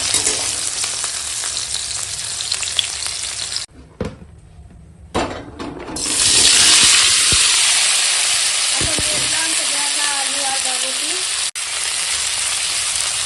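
Yardlong beans and potato sizzling in a pan, loud continuous hiss that cuts out briefly, a few clanks and a lid or cupboard knock, then a bright renewed sizzle with a faint whistling tone.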